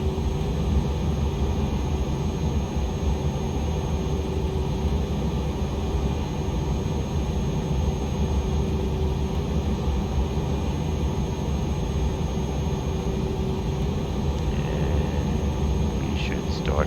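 Steady jet engine drone inside the cabin of a Cirrus Vision Jet G2 throttled back for descent, a continuous broadband roar with low rumble, constant and loud throughout, with no talk over it.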